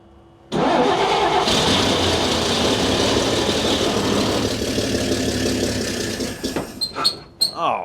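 An old 1953 Chevy dump truck engine cranks and catches, then runs loud and steady close by with a rough, uneven idle, its revs rising and falling near the end as a few sharp clatters break through.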